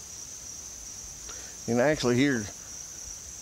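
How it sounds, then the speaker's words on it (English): Crickets by a pond in Villanow, Georgia keep up a thin, steady high trill throughout, faint and distant, while someone speaks briefly over it. "somewhat what sounds like some crickets in the background down there at the pond"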